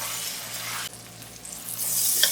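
Ghee hits a hot pan while paneer masala is being made, giving a steady sizzle and frying hiss with a brief stir, rising louder toward the end, with no talking.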